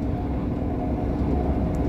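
Steady low rumble and wheel-on-rail noise inside a moving 158863 train carriage during a rail journey, continuous and fairly loud, with no talk.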